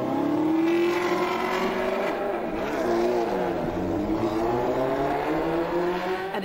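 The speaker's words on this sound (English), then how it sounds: "even at the starting line, their engine is sounding a bit unhealthy" A hot rod racing engine drones loudly and unevenly at the starting line, its pitch wavering and dipping as it revs roughly without settling.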